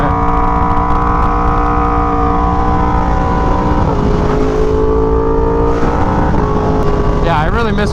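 Yamaha R1M sport motorcycle engine droning steadily while riding on a rough road, loud and continuous with harmonic engine tones shifting pitch as the revs change, plus wind noise.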